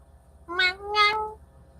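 A cat meowing twice in quick succession, two clear rising-and-falling tonal cries close by in a quiet room with a faint background hum.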